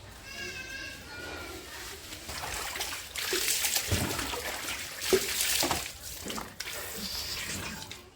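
Water splashes and pours over a man bathing outdoors in the sun in a village, with continuous close splashing under a voice talking.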